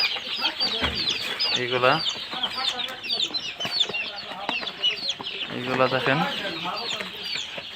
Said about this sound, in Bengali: এখন আমার কাছে 1 মাস বয়সের ফার্মি আছে